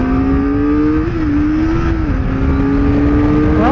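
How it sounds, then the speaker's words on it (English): A Kawasaki Ninja ZX-4RR with its small 399cc engine revs steadily and loudly up close, the high-pitched drone rising and dipping in pitch with a few throttle blips, no talking over it. "I'm revving it as much as I can without going all crazy"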